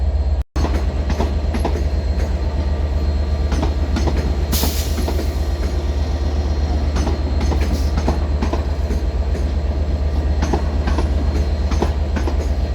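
An electric multiple unit train, class 465 set 465029, pulls out of London Victoria station, giving a steady loud rumble with clickety-clack of wheels over rail joints and a brief squeal partway through.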